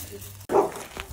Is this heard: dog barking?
yes